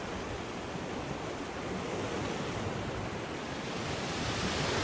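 Surf at Manhattan Beach, with boogie boarders and body surfers out, rolls as a steady broadband roar of breaking ocean waves, constant and fairly loud for the whole stretch, with a slight swell toward the end and no voices.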